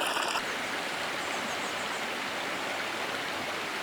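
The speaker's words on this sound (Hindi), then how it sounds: "एक छोटा सा स्ट्रीम है, पानी का नाला है छोटा सा" A small, marshy stream flows through Arang Kel forest in the Neelum valley of Azad Kashmir, giving a steady, close, full rush of running water with no voices.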